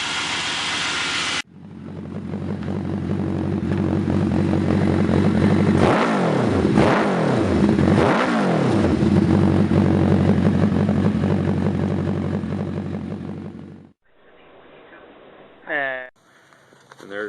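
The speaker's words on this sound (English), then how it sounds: "And there it is. The world's dirtiest LS1." A very dirty Chevrolet LS1 V8 idles with a loud, steady rumble, then revs hard three times in quick succession, each blip rising and falling, before the engine cuts off and a brief rattle and whine follow.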